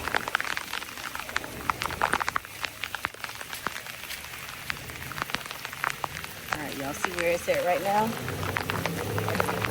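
Steady rain from Tropical Storm Helen patters hard and close across the whole stretch, a dense hiss with sharp drops. Someone talks over it.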